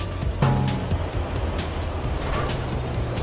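Animated monster truck and school bus race with engine noise, a continuous mid-loud motor drone with a few brief tonal bursts layered over it, steady throughout and without speech.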